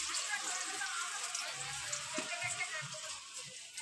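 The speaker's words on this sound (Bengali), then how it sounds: "কাঁচা টমেটোর গুঁড়ো খুব ভালো করে কিন্তু এইভাবে ভেজে নিতে হবে" Raw tomato frying in a pan gives a steady, close, bright sizzling hiss throughout, with a soft voice murmuring faintly underneath.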